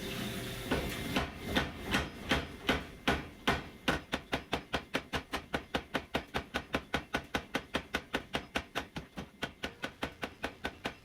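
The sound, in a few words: hammer planishing metal at a forge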